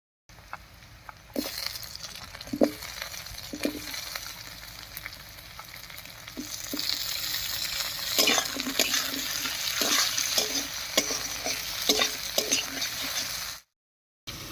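Potatoes, onion and slit green chillies frying in oil for cabbage ghonto, a steady close sizzle with scattered stirring clicks and scrapes, growing busier in the second half.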